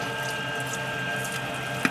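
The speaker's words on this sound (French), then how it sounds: "je vais continuer à ajouter de l'eau au pétrissage" Water poured steadily into bread dough for pain bûcheron in a mixer running on first speed, a continuous close running-water sound with a small knock at the end.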